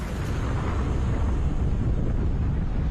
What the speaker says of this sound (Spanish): la plataforma es sacudida por una explosión.